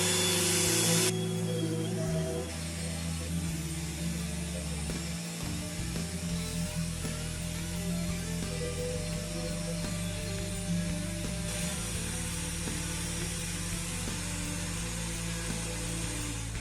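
Steady, grinding mechanical whir of a power sander removing hard glue from a 1998 Firebird dashboard, running continuously, fairly loud and close, with slight shifts in pitch as pressure changes.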